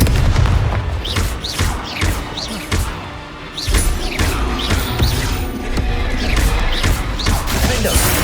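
An Incendio fire spell cast in Hogwarts Legacy amid combat: repeated heavy booms and crashing impacts with whooshing bursts, dense and loud throughout, with short dips between blasts.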